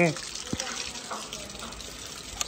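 Water gushes from a tap in a home kitchen, a steady splashing stream heard briefly under faint voices nearby.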